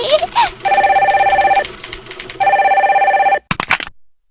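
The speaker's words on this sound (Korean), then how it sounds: "여보세요? 선두니? 바쁜데 왜?" A telephone rings in two long electronic trilling bursts with a pause between, loud and close, then is picked up with a clatter and a voice answers.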